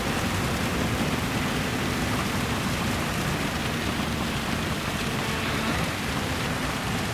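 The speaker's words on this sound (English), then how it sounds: "Okay, it's still raining." Steady, dense rain hisses continuously with no pauses and no voices, a broad wash of noise throughout, in the racing game Gran Turismo 7.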